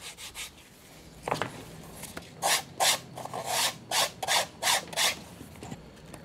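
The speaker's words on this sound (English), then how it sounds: "I'll usually run across the edges with a sander just to smooth down any imperfections" A sander runs over the edges of a tooled leather cowboy holster in a series of short, rhythmic rasping strokes, close and fairly loud, following a few softer rubs.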